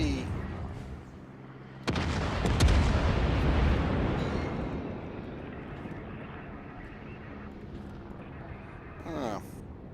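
A heavy naval gun blast booms in a warship video game as the Bayern battleship trades fire, followed by a long rumbling decay and distant shots, while a player talks over it.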